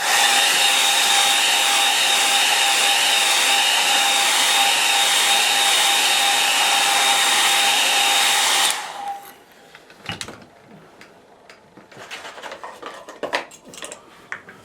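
A hair dryer blows steadily and loudly for about nine seconds while drying a watercolour painting, then cuts off, leaving faint handling noises and light clicks.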